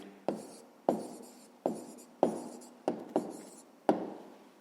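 A pen writes out the answer to a fifth-grade math exercise on paper, seven short scratchy strokes in an uneven rhythm, each starting sharply and fading, close and fairly quiet with no voices.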